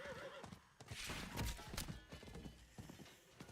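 A horse in the Diablo 4 desert whinnies loudly while its hooves clip-clop steadily beneath, fairly close, with game ambience behind.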